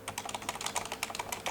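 Soft rapid typing on a Corsair Strafe RGB Silent MK.2 keyboard with Cherry MX Silent switches, a short burst of muted close keystrokes at a low level, no talking.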